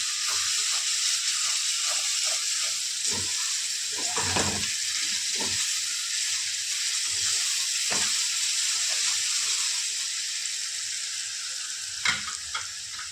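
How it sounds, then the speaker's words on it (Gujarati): Garlic and chili paste fries in a hot pan, a steady close sizzle and hiss running throughout, broken by repeated scraping stirs of a spoon against the pan. "આ લસણ મરચાંની પેસ્ટ નાખી દેવાની. પેસ્ટ નાખ્યા પછી આપણે આને હલાવીશું."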